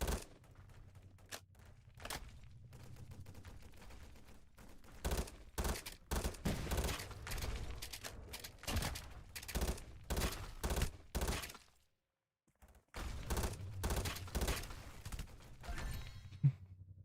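Rapid bursts of opponent gunfire in a video game, with clustered shots firing repeatedly, then a brief silent gap before the volleys resume, fairly quiet overall.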